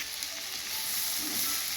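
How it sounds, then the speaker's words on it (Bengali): Sliced bitter gourd, lightly salted, fries in hot oil with a dense, steady sizzle that swells slightly toward the end, no voices present. "একটু লাল লাল করে ভেজে তুলে নেব।"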